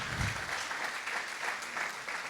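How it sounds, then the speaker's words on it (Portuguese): Church congregation applauding during a sermon, a fairly quiet, steady patter of many hands clapping with faint voices underneath. "Aplauda o Senhor, aleluia."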